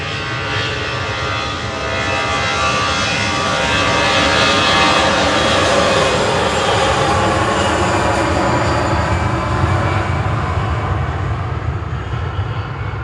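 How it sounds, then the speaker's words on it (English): A loud, continuous roar of an EasyJet jet airliner departing Manchester Airport for Paris Charles de Gaulle, a broad steady engine rumble that swells slightly midway and holds for the whole stretch with no talk over it. "EasyJet departing now to Paris Charles de Gaulle"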